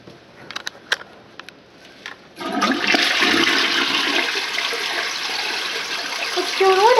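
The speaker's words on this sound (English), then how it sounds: "likes watching the toilet flush every time we use it" A household toilet flushes with a loud, steady rush of swirling water that builds after a few quiet clicks and continues to the end, while a person speaks softly near the end.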